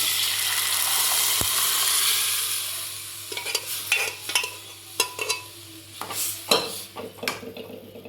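Hot tempering sizzles steadily, then cooked mung dal is stirred in, giving wet scraping and clinking strokes of a spoon against the pot in an uneven rhythm, close and without talking.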